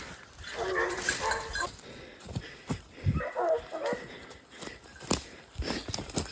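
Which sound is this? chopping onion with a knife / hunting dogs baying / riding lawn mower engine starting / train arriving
hunting dogs baying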